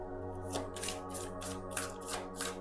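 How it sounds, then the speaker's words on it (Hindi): A single card slipped from a deck, a few soft papery snaps and flicks in quick succession, close and quiet with no talking. "चलो इसी डेक से ले लेते हैं एक कार्ड"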